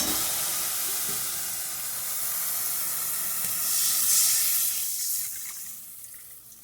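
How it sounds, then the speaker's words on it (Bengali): A little water poured over darkening spices in a hot pan bursts into a loud, broad hiss of steam and sizzle that peaks midway and then fades. "এবার অল্প জল ঢেলে দিলাম"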